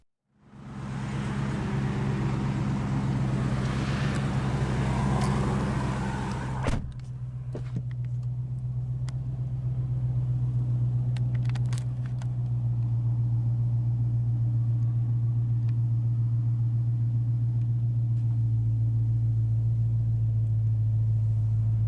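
A 2015 Dodge Challenger R/T Scat Pack with a 6-speed manual and 485 horsepower starts with a loud, roaring burst, then settles into a steady, deep, rumbling idle close by.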